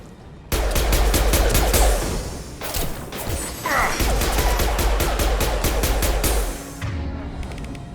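Gunfire in Mass Effect Legendary Edition: sustained loud bursts of automatic weapon fire with mechanical clatter and impacts, a brief whoosh midway, continuing nearly without pause, no talking.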